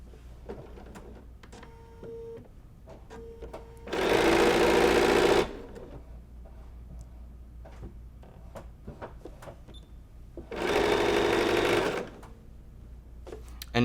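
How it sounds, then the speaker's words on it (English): A sewing machine chain-pieces quilt blocks together in two loud, steady bursts of about a second and a half each. Quieter handling sounds fill the gaps between the bursts. "And we are chain piecing them together."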